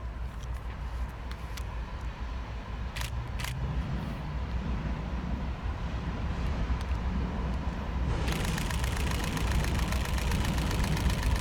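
Amtrak P42 diesel locomotive idling at Fullerton station, a steady low rumbling throb with a faint hiss that grows slightly louder, heard from a distance in an outdoor rail setting.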